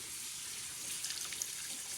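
Water runs over dried beans set to soak for traditional Newfoundland baked beans, a steady, faint splashing rush with small trickles and no voices.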